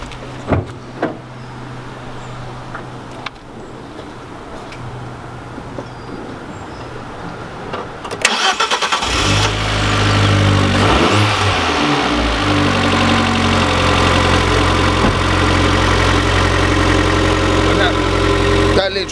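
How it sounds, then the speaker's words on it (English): An Abarth 595 engine cranks and catches after battery trouble, then settles into a steady, loud idle that hums on without a break. "Now the car's started, I can shoot down to Arbarth and get a battery."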